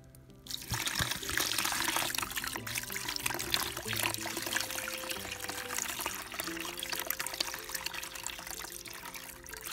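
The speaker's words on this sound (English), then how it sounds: "I'm gonna pour some more water so you can see what they look like." Water is poured over a pile of tumbled agate, jasper and obsidian stones, making a steady, close splashing trickle that runs unbroken for nearly ten seconds with no talking.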